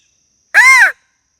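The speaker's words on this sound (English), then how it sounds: "crow call" A single crow caw rings out clearly, one harsh call lasting under half a second against an otherwise silent background near a forest watering hole.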